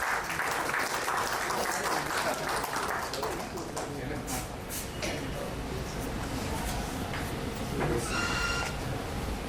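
Applause rises from an audience welcoming guests at an association's AGM in Vijayawada, a steady, dense clatter of hands that runs throughout, with some voices and shuffling mixed into the crowd noise.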